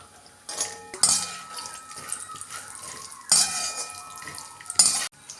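Walnuts roasting in ghee in a pan for dink laddoo, heard as close clinks and scrapes of a spoon against the metal pan in a few bursts, with a soft stirring sound between them and no talking.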